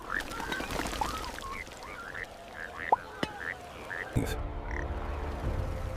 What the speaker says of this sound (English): The frogs multiplied until every corner of Egypt began to fill